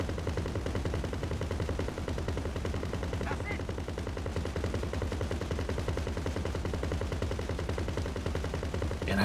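Rapid automatic gunfire in GTA Online rattles continuously and loudly throughout, a dense steady barrage of shots with engine-like drone underneath and no speech.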